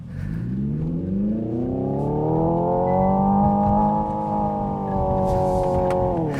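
The simulated engine of a 2025 Hyundai Ioniq 5 N, an electric car, climbs in pitch as it accelerates and then holds a loud, layered, steady drone up close before easing slightly.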